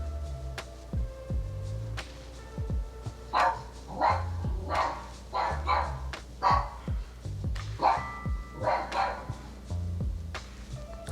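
Recorded dog barks play from a smart speaker as a novelty voice-assistant skill, a run of short, close barks and yips in an irregular rhythm with brief gaps between them.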